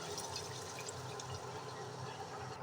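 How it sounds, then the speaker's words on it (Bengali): Water pours steadily into a cooking pot of broiler chicken curry in a continuous rushing splash, close by and fairly soft, with no talking. "এরপরে আমি কিছু পানি দিয়ে দিব"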